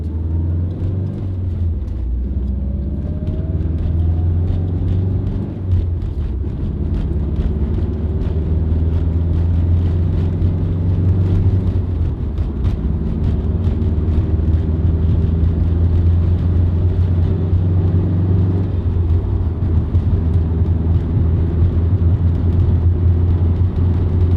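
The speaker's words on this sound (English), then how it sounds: "I don't know how well you can hear me over the car" A Subaru STi engine runs steadily with a low, droning rumble, loud and close, holding an even tone throughout.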